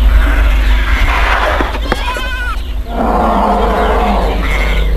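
A tigress roars while stalking a flock of sheep in a forest, her loud growling calls mixed with bleating sheep over a dense, continuous wild-animal background.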